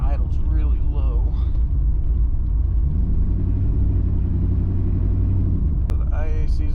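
A Chevrolet Camaro Z28 engine idles very low and rough, a steady close rumble with slight hesitation in its rhythm, while someone talks over it.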